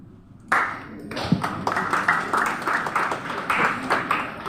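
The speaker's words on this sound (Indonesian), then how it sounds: "Tepuk tangan buat koordinator Intan Jaya." Audience at a church synod conference claps for a regional coordinator, a round of hand claps starting abruptly and continuing as a moderately dense patter, fairly close.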